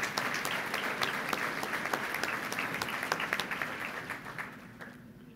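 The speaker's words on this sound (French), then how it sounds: "les 70 députés, devraient applaudir les gens qui sont ici" Clapping from an audience at a public-finance talk, a steady patter of many hands with sharper individual claps standing out, gradually thinning and fading near the end.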